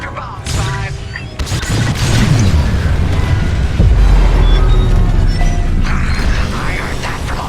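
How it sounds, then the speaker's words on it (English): A reactor core blows apart during a starfighter mission in Star Wars: Squadrons, with heavy rumbling booms and mechanical creaks that swell and roll on loudly for several seconds amid layered game effects. "You won't have much time to get out once the core explodes"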